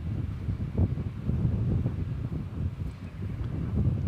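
Steady wind gusts buffet the microphone on a breezy evening at DFW Airport, a continuous low rumble with slight swells and no voices.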